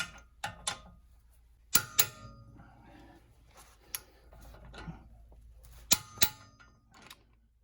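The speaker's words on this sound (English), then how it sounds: "So now what you want to do is you want to just torque these guys down" A torque wrench tightens brake caliper mount bolts to spec during a pad and rotor job, giving sharp metallic clicks and clanks scattered across the span, with quieter ratcheting ticks between them.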